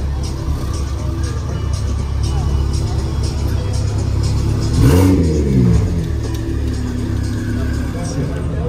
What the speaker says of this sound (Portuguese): Aí a Turbo S do Brandão, tá até sem bateria, ele fez pegar direto uma ponte ali e ligou o carro